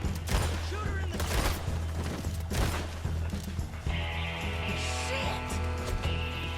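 Rapid volleys of gunfire during a Red Dead Redemption 2 shootout, dense overlapping shots over a low rumble, with shouting voices and clanking mechanical noise toward the end.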